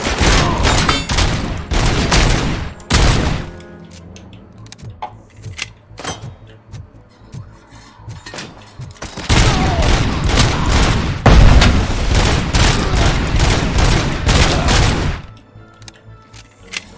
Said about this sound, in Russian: Там стреляет.